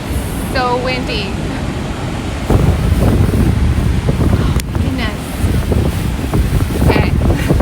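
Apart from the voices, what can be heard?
strong wind at Niagara Falls on a rainy day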